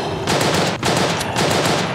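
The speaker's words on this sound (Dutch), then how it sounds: "Oei, je krijgt schoten." Sustained automatic gunfire in the World War I shooter game Verdun, a dense, loud burst of rapid shots filling the whole moment with only a brief gap near the middle, no voices over it.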